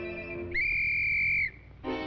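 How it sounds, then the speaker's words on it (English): A whistle is blown in a cartoon: one bright, steady shrill tone lasting about a second, loud and clear between stretches of quieter sound. "See this whistle? Well, if the wolf shows up, just blow it, like this."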